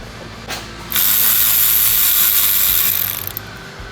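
A ratchet works loose a bolt on a 2017 VW Jetta GLI engine, giving a brief click then a fast, continuous run of close, crisp pawl clicks lasting a couple of seconds.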